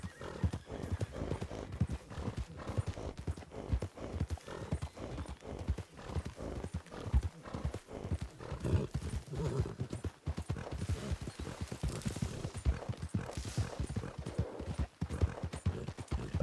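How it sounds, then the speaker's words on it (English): Horses in a roleplay video game clip-clop steadily with hooves throughout, with an occasional neigh, fairly loud and continuous, overlaid by busy game sounds. "I heard horses."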